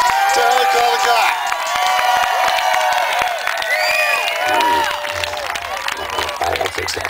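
A rally crowd at a Hanford anti-nuclear event claps and cheers loudly for Dr. Helen Caldicott, with shouts and whoops over dense applause that thins slightly toward the end.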